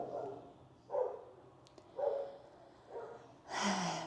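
A dog barks outdoors beyond an open window after a motorbike passes, giving four muffled, moderately distant barks at roughly one-second intervals over faint background noise.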